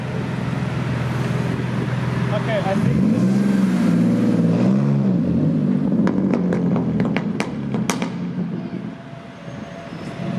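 Ferrari 250 GT or Audi R8 Le Mans Edition sports car engine revving loudly, a rising and falling roar with sharp throttle blips toward the end, under steady street noise and brief talk.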